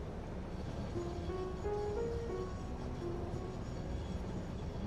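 A train ride in the video game Satisfactory, a steady low rumble of rolling wheels with faint tonal whines rising and falling, continuous and fairly quiet with no talk.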